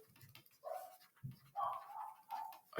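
Children imitate dogs with a few yelping barks and whimpery woofs, heard at a distance in separate bursts through a quiet room.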